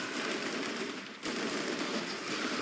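Rapid automatic gunfire from the video game Risk of Rain 2, a dense continuous stream of shots with one brief gap, fairly quiet and with no talking.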